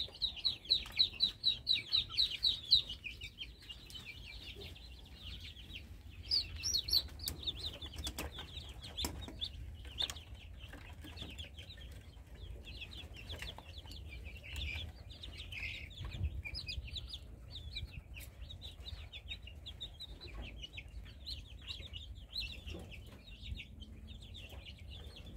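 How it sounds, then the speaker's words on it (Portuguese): Newly hatched chicks from an incubator give a constant, faint chorus of high peeping. A few sharper cheeps stand out near the start, and there is low background rustle and no speech. "Vem aqui os pintinhos novos aqui que saiu na chocadeira."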